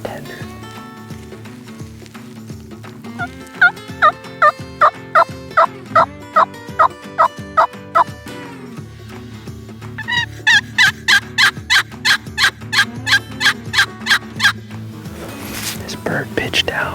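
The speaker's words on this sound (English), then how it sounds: "I wouldn't say he's gobbling a lot, but he's gobbling still" A wild turkey gobbles repeatedly during an early-season hunt in Iowa, sounding as two bursts of rapid rattling gobbles, distant yet clear, with quiet whispered talk nearby.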